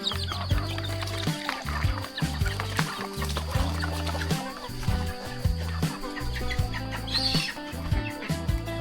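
Chickens on a rural farm in Laos cluck steadily and close by, a dense overlapping chorus of short clucks with a faint distant crow among them.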